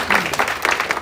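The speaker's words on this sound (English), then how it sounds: "I think that deserves a round of applause." Brief burst of audience applause at a political rally supporting a councilman's re-election, many hands clapping together in a dense, fairly close patter.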